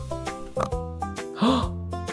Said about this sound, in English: That's right, it's a pig.